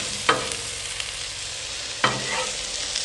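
Cheesy hashbrown casserole sizzles on a Blackstone griddle as a spatula flips and mixes it, two distinct scraping clacks standing out over a constant close hiss.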